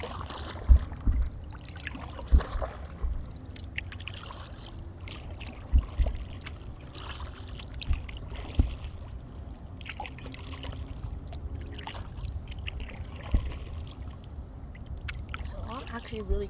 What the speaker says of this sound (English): If I don't keep on rowing,